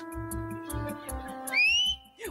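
A bright rising whistle rings out over a steady background hum, sweeping upward and holding briefly before cutting off, with softer repeated chirps before it.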